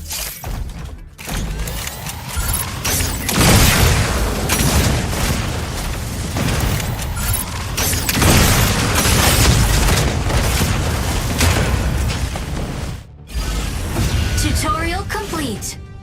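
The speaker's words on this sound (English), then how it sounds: "use the 2 different modes of the energy autocannon to neutralize enemy strikers" Energy autocannon in a video game blasting enemy strikers: continuous loud booming, bursting impacts and mechanical clatter for most of the stretch, broken by two brief drops, with voiced narration running over the barrage.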